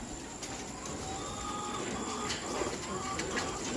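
Racing pigeons at a loft coo softly amid a busy, noisy outdoor background, with faint low calls scattered through the steady hiss.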